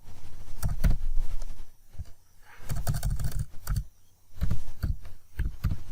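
Keys clatter in quick bursts on a computer keyboard, close and crisp, with short pauses between the runs.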